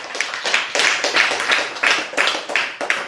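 Hands clap together in a steady rhythmic burst of applause-like claps, close and fairly loud, sounding like a small group clapping in unison.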